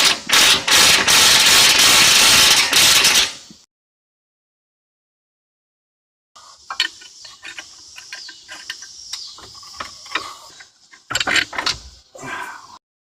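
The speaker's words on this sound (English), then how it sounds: "Now we'll just torque it down." A ratchet wrench tightening a nut on the front suspension of a Lexus ES300 gives a loud mechanical burst, then a pause of silence, then rapid clicking ratchet strokes, close and sharp, with no talk.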